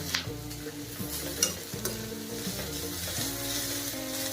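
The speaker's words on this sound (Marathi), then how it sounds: "सगळ्या भाज्या आपल्याला आता ह्याच्या तेलामध्ये ना चांगल्या फ्राय करून घ्यायच्या आहेत" Capsicum, cabbage and other vegetables fry in oil for a veg manchurian, with a close sizzle broken by repeated spatula stirs and scrapes against the pan, no one speaking.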